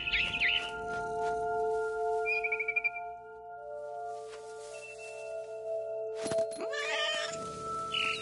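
A cat meows in the video game What Remains of Edith Finch, several short close mews over a steady synthetic game ambience, with a brief birdlike chirping flutter and a few soft bumps between them.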